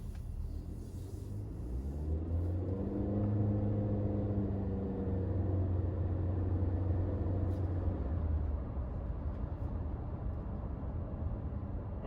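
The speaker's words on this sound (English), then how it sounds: "you can hear a little bit of that groany moany exhaust sound of the CVT" A 2018 Honda CR-V with a CVT accelerates on an open road at dusk, its engine and exhaust drone rising and holding as a steady moaning hum inside the cabin, fairly faint and with no talking.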